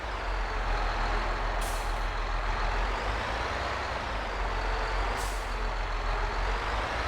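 Truck manoeuvring with a planter in Farming Simulator 22 on the Gnadenthal Manitoba map: a constant low diesel drone with a couple of brief air-brake hisses, steady and close throughout.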